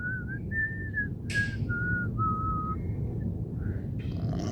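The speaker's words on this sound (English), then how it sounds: "I swear I can whistle." A person whistles a short wavering tune outdoors in a park, several sustained melodic notes with a brief breathy break, loud and close over steady low background rumble.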